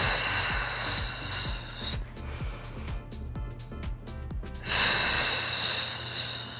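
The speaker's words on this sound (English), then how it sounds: "Exhale, exhale, exhale, exhale. Inhale, inhale, inhale, inhale." Heavy, rhythmic breathing during a Pilates mat workout, a rapid run of sharp nasal puffs in a steady pulse, close and fairly loud, with a broader breathy exhale at the start and end.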